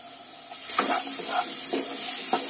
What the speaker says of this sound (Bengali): আদা রসুনটা একটু নাড়িয়ে টমেটো দিয়ে দিলাম